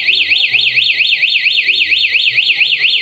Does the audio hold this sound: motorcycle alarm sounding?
yes